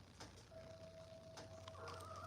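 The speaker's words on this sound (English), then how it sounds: "what are you running and hollering about, chicken?" Chickens at a ranch barn give faint, distant clucks and a drawn-out squawk over steady background hum.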